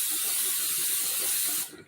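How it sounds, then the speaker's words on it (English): Olive oil cooking spray hisses steadily into a cooking pot for about a second and a half, a close, continuous aerosol spray that cuts off sharply near the end. "give my pot a light spray of some olive oil spray"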